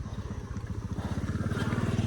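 A motorbike around twelve years old revving in Nepal, a low rhythmic engine thrum with pulsing firing beats that build louder toward the end, close by.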